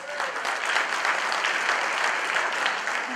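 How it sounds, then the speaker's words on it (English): Steady, continuous applause from a crowd, clapping evenly at a constant level throughout. "Please give everyone a round of applause."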